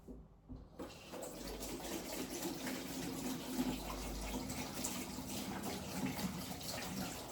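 A kitchen tap running steadily while hands are washed during chicken preparation, a continuous close splash of water into a sink with faint rubbing, starting after a brief quiet moment.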